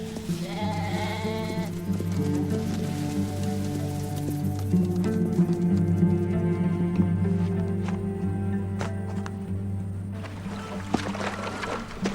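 Sheep bleat repeatedly over a steady, droning musical background. The wavering calls rise and fall and are fairly close and clear.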